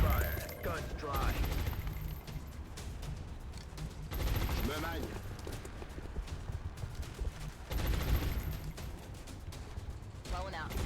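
Repeated bursts of gunfire in the strategy game XCOM Long War, loud shots in several clusters with busy battle noise between them.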